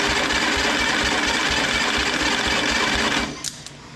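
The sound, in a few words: homemade 30-inch vertical band sawmill spin test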